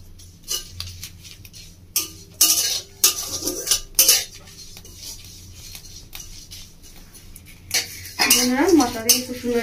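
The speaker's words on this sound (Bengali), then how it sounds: "তো এটা আমি শুকনো কলায় ভেজে নেব।" Whole spices (dried red chilli, cinnamon, cloves, cardamom) and dried fenugreek leaves dry-roasting in a pan for Bengali chicken kosha, with scattered metallic clinks and scrapes of a spoon against the pan, close by and intermittent.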